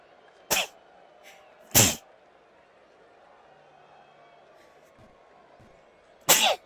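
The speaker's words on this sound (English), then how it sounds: "I didn't mean to do that while I was sneezing." Three sharp, loud sneezes, spaced apart, over a faint murmur of background crowd noise during a baseball game.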